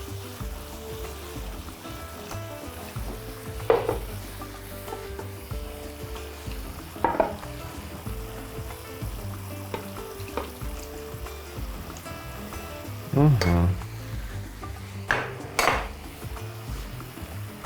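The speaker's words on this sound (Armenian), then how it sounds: "Քիչ-քիչ ավելացնում ենք և խառնում։" A spoon stirs and scrapes around a pan as milk is added bit by bit to a sauce for meat and mushroom lasagna, with soft sizzling underneath and occasional louder clinks of utensil on metal, close and unvoiced.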